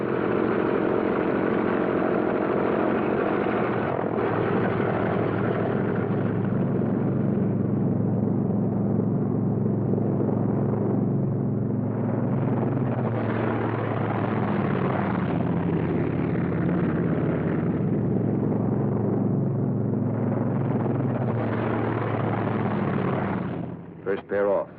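Thunderbolt fighter aircraft taking off in pairs, a heavy continuous engine roar and rumble that swells and eases over about twenty-five seconds in a muffled, low-fidelity recording, with voices over it.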